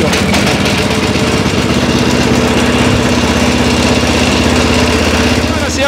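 A walk-behind tractor's engine runs at a steady idle, loud and close throughout, with a continuous low, rumbling drone and a fast mechanical chatter.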